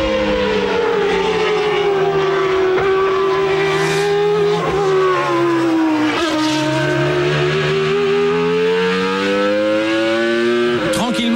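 The 1995 Renault Espace F1 minivan, with a Formula One engine and a sequential gearbox, screams loud and close as it revs toward 14,000 rpm, its howling pitch rising and dipping with brief gearshift breaks throughout.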